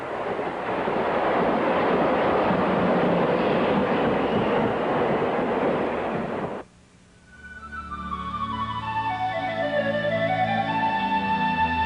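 A high-speed TGV train roars loudly past for several seconds, then cuts off abruptly, followed by a softer tonal hum with descending and rising pitches.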